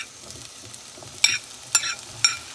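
Peppers added to onions already cooking, sautéing in a pan: a soft, steady sizzle broken by three sharper stirring scrapes at even intervals.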